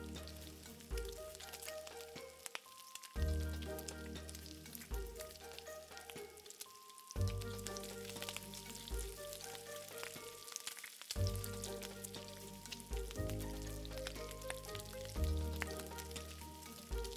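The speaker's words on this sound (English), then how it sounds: "Let's just like saute until all peppers kind of like a little bit soft." Bell peppers for pad kaprow sauté in a hot pan with a steady, soft sizzle. Loud background music with shifting chords largely covers the frying throughout.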